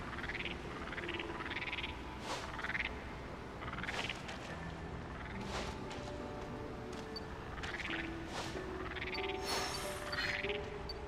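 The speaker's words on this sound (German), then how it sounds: "Wenn die Frösche Sound machen." Frogs croaking in the video game New Pokémon Snap, a repeating series of bright rising croaks at a steady rhythm over a continuous ambient wash of game sound, with no talk.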